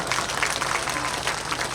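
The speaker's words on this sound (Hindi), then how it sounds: "एक बार जोरदार तालियों से उनका स्वागत" Audience applause welcoming an SDM guest and his wife at a Rajasthan political gathering, a dense steady wash of clapping from a crowd that holds evenly throughout.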